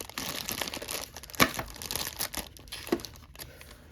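A small knife cuts into blind box packaging, giving close, quiet crinkling and tearing with two sharper cracks as the material gives way.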